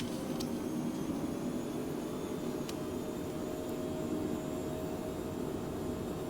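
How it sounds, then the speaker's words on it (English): Phenom business jet engines spool at maximum takeoff power, a steady broadband roar with a faint whine heard from inside the cabin, continuous and unbroken. "Let's hit max takeoff."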